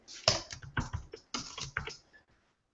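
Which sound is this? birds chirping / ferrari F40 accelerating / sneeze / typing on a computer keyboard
typing on a computer keyboard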